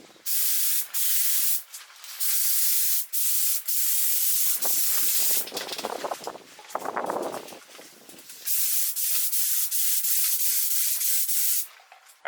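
A paint spray gun coats a car bumper lip on an Integra Type R, hissing in repeated short bursts with brief pauses between them and a rougher, rubbing stretch in the middle, close and fairly loud, with no voices.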